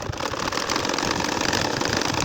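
A machine stitches lengthwise rows through a nakshi kantha quilt, giving a steady, dense mechanical whir that runs close and unbroken for the whole stretch with no pauses.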